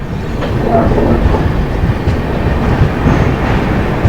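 Samaleswari Express pulling into Titlagarh junction in Odisha: a steady, close rumble of rolling rail cars with faint clickety-clack from the wheels, loud and continuous with no talk.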